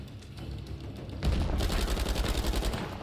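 Fully automatic gunfire in the video game Uncharted 4 on PS5: after a quieter moment, a continuous rattling burst erupts loud and close, hammering on without a break.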